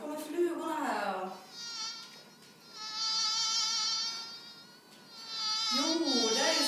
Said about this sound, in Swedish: Ja, nu kommer flugorna här.